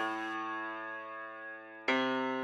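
A sustained harmonically rich synth tone with a slight gritty foldback distortion from the D11 Foldback Distortion in Reason, briefly brightening and swelling louder near the end.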